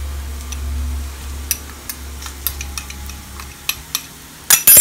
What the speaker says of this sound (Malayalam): മുളക് പൊടി ഇട്ടതിന് ചതച്ച മുളക് ഇട്ടതിന് ശേഷം നല്ലതുപോലെ അങ്ങ് മിക്സ് ചെയ്യാം